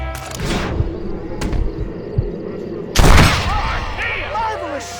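Gunshots in a Wild West gunfight from Red Dead Redemption, a few sharp cracks early on, then a louder burst of fire with booming echoes and ringing tails, mixed with shouted voices.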